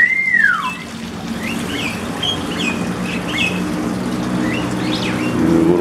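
A myna bird beside a koi pond gives a loud swooping whistle, then a scatter of short chirps and calls over a steady background wash of water and distant noise.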